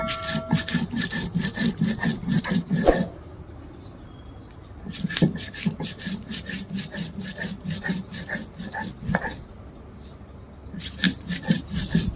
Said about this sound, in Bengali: তো আমি মশলাটা বেটে নিচ্ছি